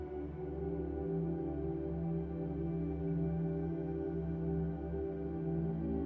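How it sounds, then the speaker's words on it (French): Steady home ventilation hums as a low, even drone, faint and unbroken, with no voices. "chez moi, j'entends l'aération."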